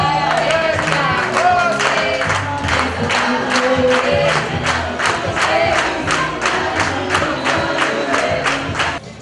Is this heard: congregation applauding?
yes